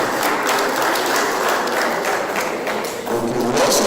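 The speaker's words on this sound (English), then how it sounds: "Round of applause for him." Audience applause at an induction ceremony in a resource centre, a dense steady wash of clapping that holds loud throughout with a slight dip near the end.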